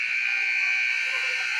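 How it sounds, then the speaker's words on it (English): Basketball game buzzer at a boys' varsity high school game, a loud sustained electronic tone sounding continuously and alone. "That buzzer sounds."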